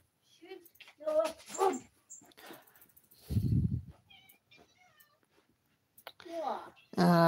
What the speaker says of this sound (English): Oh, the cat's having a bit of a meow now.